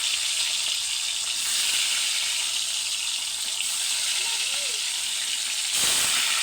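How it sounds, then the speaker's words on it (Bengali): Fish pieces coated in turmeric and chili fry in hot oil, producing a steady, close hissing sizzle with a couple of sharper bursts as pieces go in. "তেলটা গরম করে নিছি আর মাছগুলো দিয়ে দেবো এখানে আমি"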